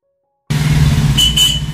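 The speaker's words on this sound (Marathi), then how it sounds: "समोर आता भरपूर ट्रॅफिक लागलेलं आहे" Road traffic with cars and other vehicles makes a steady low rumble after a moment of silence, with a brief, bright horn-like tone sounding twice near the end.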